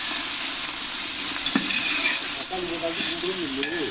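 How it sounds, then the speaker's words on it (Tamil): Tomatoes frying in a pan for chicken biryani, a steady close broadband sizzle running throughout with occasional utensil scrapes and soft stirring movements, no talking. "இப்போ நம்ம இது ஃப்ரை ஆகிற நல்லா வதங்குற வரைக்கும் வெயிட் பண்ணலாம்."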